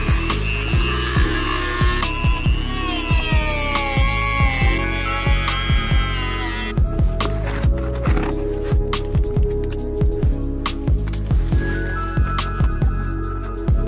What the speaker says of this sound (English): so I'll just be using my Dremel to cut it up.